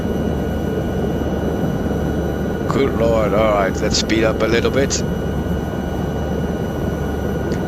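A helicopter flies low in a VR flight simulator, its engine and rotor making a constant loud drone throughout while someone talks over it.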